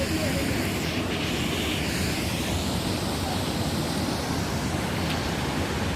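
An outdoor waterfall roars in a dense, continuous rush that fills the scene, loud and close, with no clear speech over it.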